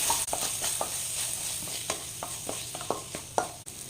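A spoon scrapes and stirs spices in a frying pan with soft sizzling underneath, a steady series of light scraping strokes close by.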